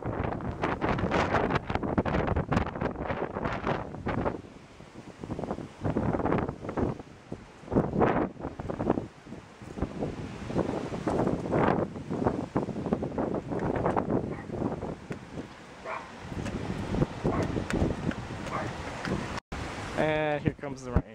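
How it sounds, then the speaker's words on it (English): Strong storm wind with blowing dust and lightning nearby roars and buffets the microphone in continuous heavy gusts for the whole stretch, with a brief voice near the end. "So windy."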